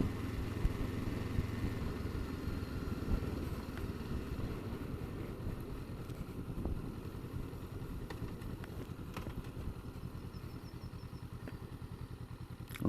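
A motorcycle rides steadily up a road, its engine a constant close drone with some wind buffeting on the microphone and no talking.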